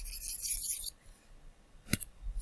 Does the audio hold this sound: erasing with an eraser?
yes